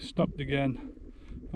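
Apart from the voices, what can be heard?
No distinct noise like a dog, phone or traffic.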